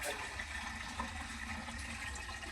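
Water gushes steadily from a bucket into a vessel while paddy is being parboiled, a continuous close pouring rush with no talk.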